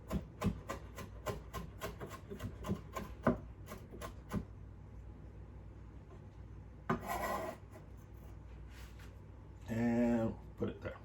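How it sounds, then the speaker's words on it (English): A kitchen knife slicing habanero peppers on a cutting board, a quick run of crisp, evenly spaced cuts, then a pause before a few scraping and rubbing sounds close by. "Just gonna slice that up real quick."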